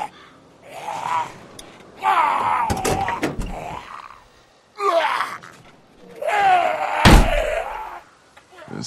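In The Walking Dead video game, a door is forced and slammed amid strained grunts and gasps, with heavy thuds and sharp impacts landing in two bursts between effortful vocal strains.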